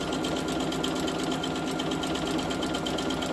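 An embroidery sewing machine stitches on a fast frame with a rapid, even mechanical whir and needle chatter that runs steadily and fairly close, with no voices over it.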